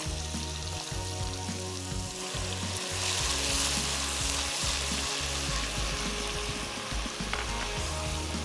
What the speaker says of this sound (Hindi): प्याज को अच्छे तरीके से आपने फ्राई करना है